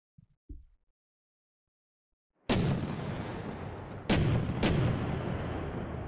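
A weapon in the modded video game Rimworld fires three big booming shots, preceded by faint small clicks and then silence; each blast rings out loud with a long decaying tail.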